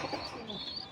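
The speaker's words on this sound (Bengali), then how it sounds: "যেটা ডাকতেছে পেছনে, ওইটা হলো হায়দ্রাবাদি নীলি, ঠোঁট লম্বা।" A Hyderabadi Nili pigeon with a long beak coos somewhat in the background, a soft low murmur lasting about a second.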